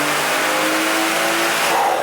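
A BMW F30 with a turbocharged B58 engine revs hard on a dyno, one loud continuous rising engine note held close and unbroken for the whole two seconds.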